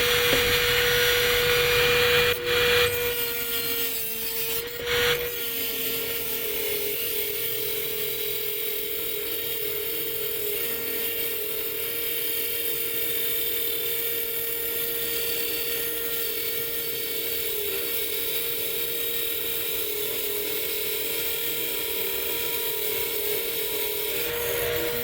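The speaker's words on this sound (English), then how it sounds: "now I just need to Dremel off the rest of this part for the USB and Ethernet" A Dremel rotary tool cuts openings for USB and Ethernet ports into a Gaems G155 case during a PC build, making a steady high whine with a rough grinding rasp that continues throughout.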